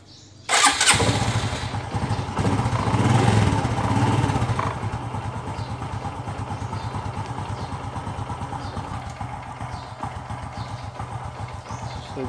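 A Honda XRM125 motorcycle engine fires up with a sudden loud catch, then settles into a steady, close, rapid idle that runs on alone without talk.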